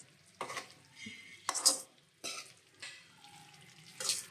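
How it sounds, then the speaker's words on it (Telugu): Chicken pieces for a homemade pickle are mixed with salt, chili and masala powder in short, soft, squelching stirring strokes that come in separate bursts with brief pauses, quiet and close. "ఇప్పుడు ఉప్పు, కారం, మసాలా పౌడర్ అన్నీ బాగా చికెన్లో కలిసిపోయేంత వరకు కలుపుకోవాలి."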